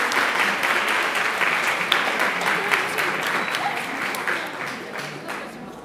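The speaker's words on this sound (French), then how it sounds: "vous les applaudissez s'il vous plaît bien fort." An audience applauds steadily, a moderately loud, continuous patter of many hands clapping together with no voices on top.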